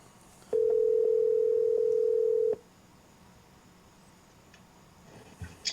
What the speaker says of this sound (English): Now we're going to make a phone call over the CarPlay with the steering wheel button.